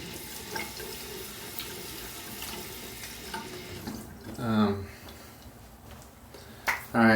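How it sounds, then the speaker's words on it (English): Sink tap running as a freshly shaved head is rinsed, a soft steady water hiss with splashing that swells near the end, close by and fairly quiet. "we'll rinse this and finish up real quick"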